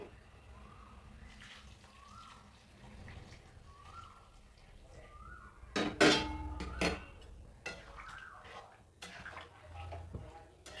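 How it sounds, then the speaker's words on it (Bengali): Hot water is poured into jackfruit curry cooked with goat fat. A quiet kitchen background gives way to a sudden loud splashing, bubbling burst midway, followed by softer clattering and simmering. "গরম জল দিয়ে দেব।"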